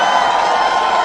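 A large crowd roars and cheers at George Bush's victory speech, a dense, steady wash of voices and applause filling the whole short moment at high volume.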